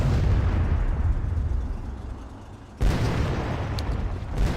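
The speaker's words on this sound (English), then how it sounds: "they're pretty close to the target that they're trying to pound at with those" Howitzer artillery fire in a video game, a dense rumbling barrage of booms filling the whole clip, loud and continuous with a sharper renewed blast partway through.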